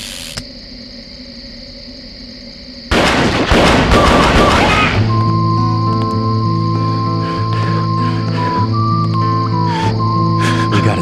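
Gunfire rings out in the western shooter game Gunfighter: The Legend of Jesse James. A loud burst of rapid, overlapping gunshots comes midway, between quieter stretches, and then gives way to sustained musical tones.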